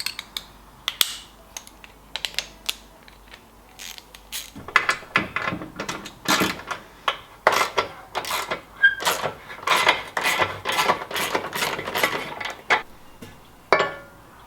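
Water tank being unbolted and lifted off the front end of a Ford Sapphire RS Cosworth, with a run of sharp clicks, taps and metallic knocks from tools and fittings, sparse at first and then busy and close.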